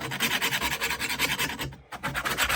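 A dull blade from an Exmark zero-turn mower is sharpened with rapid, rhythmic rasping strokes. They repeat evenly up close, with one brief pause midway.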